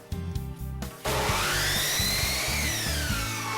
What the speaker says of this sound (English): we're going to slide the saw over to the left 45-degree miter angle and make our cut